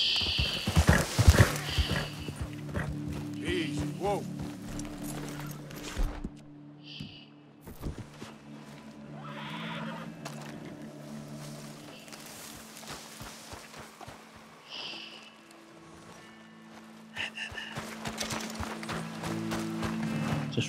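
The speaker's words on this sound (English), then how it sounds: "See what that horse does." Horse hooves in the video game Red Dead Redemption 2 clop steadily over a long stretch, a continuous walking rhythm at moderate loudness with occasional louder bursts and faint background voices.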